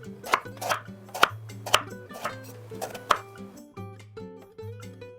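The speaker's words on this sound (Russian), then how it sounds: "Итак, баклажаны я режу дольками." A knife slicing eggplant into centimetre-thick wedges on a board, sharp regular chops about every half second, then quieter taps with a faint ringing tone behind.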